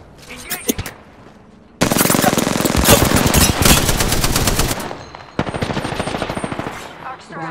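Automatic weapon fire in the shooter game Apex Legends: a few brief shots, then loud sustained bursts of rapid fire, a short pause, and another long close burst, with a player's voice at times.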